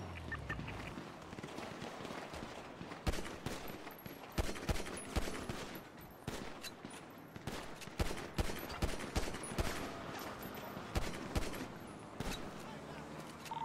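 Gunfire in a GTA shootout, bursts of rapid shots in repeated volleys over a continuous background, fairly faint, with voices talking over it at times.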